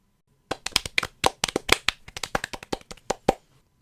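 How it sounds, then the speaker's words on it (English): A short burst of applause in a radio play, a few pairs of hands clapping quickly and unevenly up close for about three seconds before stopping, with no talk. "I think a round of applause is in order."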